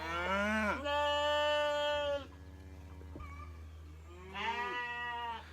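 Cows on a sheep farm give two long, loud, close moos, each a drawn-out bellow, separated by a quieter pause with faint background noise and no talking.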